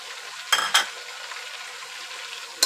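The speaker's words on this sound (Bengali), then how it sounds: "এরপর একটু ভেজে লাল করে নিব পেঁয়াজগুলো।" Sliced onions and crushed garlic sizzle in hot oil in a pan, a constant close hiss punctuated by a few sharp scrapes and clinks of a spoon stirring.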